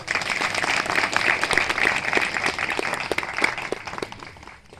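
An audience at a public gathering breaks into applause, a dense burst of many hands clapping together that swells, holds for several seconds and then thins out.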